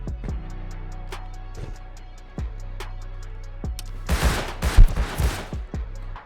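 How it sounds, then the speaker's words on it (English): Rapid bursts of gunfire in the video game Rust Console Edition, scattered single shots and then a dense, loud volley of overlapping fire near the end. "Now I'm getting shot."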